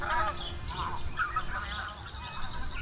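Geese and other waterfowl honk and call continuously over the Nanji wetland in late autumn, a steady overlapping chorus of cries at moderate distance with no pauses.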